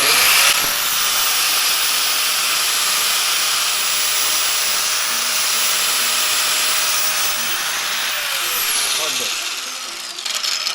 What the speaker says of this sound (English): Let's see if I can hold the grinder in one hand and the tape measure in the other.